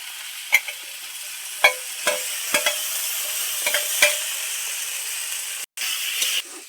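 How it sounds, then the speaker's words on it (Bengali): Fried mud eel pieces being stirred into sizzling spice masala in a village kitchen, a steady hiss with several sharp spoon-on-pan scrapes and clinks spaced about a second apart, close and fairly loud, no voices. "আমার মশলা পাকানো রেডি তো ভেজে রাখা মাছগুলো এবার দিয়ে দেবো"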